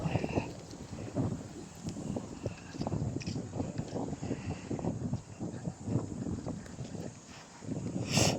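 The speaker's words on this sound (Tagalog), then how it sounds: "Mahangin ngayon eh." Steady wind roars and buffets the microphone outdoors at a nine-hole golf course, a continuous rushing noise with gusts rising and falling, no voices.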